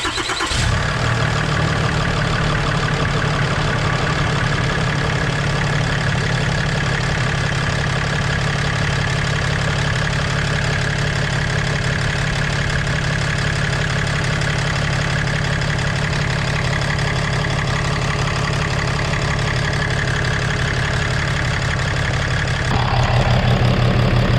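A 6.7 Cummins diesel truck engine idles in an engine bay, a loud, close, unbroken low clatter and drone that holds steady for its whole length with a slight shift near the end, with no voices.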